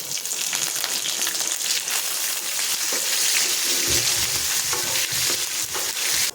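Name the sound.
green chillies and curry leaves frying in oil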